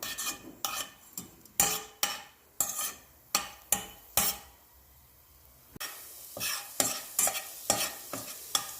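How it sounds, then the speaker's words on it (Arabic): Coriander and garlic fried in oil in a pan, with a spoon scraping and stirring in quick repeated bursts over a soft sizzle, close up and with no talking. "هلا نحن نقلي الكزبرة مع الثوم حتى هيك ناخد لون بسيط"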